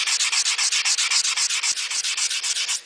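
Stainless steel car trim being sanded by hand with 150-grit paper in steady, rhythmic back-and-forth strokes, a close, loud, even rasping with no talk.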